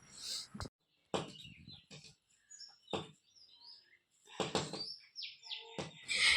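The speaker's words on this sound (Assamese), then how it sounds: "এই চৰাইটো ৰাতিপুৱা মানে একদম শুবলৈ নিদিয়ে" A small bird chirps near a bedroom window in the early morning, sharp scattered tweets in short bursts with quiet gaps between them, fairly close but soft overall.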